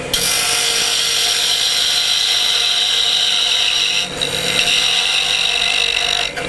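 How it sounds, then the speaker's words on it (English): Steady loud broadband hiss and whine of a wood lathe cutting a tenon, a continuous abrasive scraping tone held throughout with two brief dips as the tool lifts off. "I'm going to go ahead and get my tenon cut and get it out of the way"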